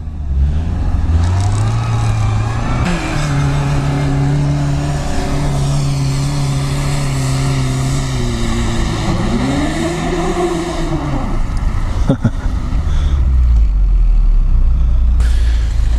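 An off-road car on a run-up for a test drive, its engine droning loud and steady up close, pitch climbing through the gears with brief dips at each shift before settling back to a lower rumble.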